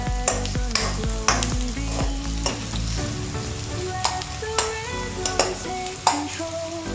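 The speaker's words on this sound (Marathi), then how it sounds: "फक्त पारदर्शक होईपर्यंत किंवा गुलाबी होईपर्यंत भाजून घ्यायचं" Onion fried and stirred in a pan until translucent, with a bright sizzle punctuated by repeated sharp metallic clanks and scrapes of the spoon over low tonal background music, close, with no speech.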